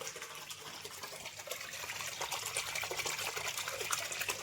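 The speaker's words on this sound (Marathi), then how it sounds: "इकडं बघा हे आहे धबधबा" Water from a small decorative waterfall pours and splashes in a steady, continuous rush, fairly soft, with no voices.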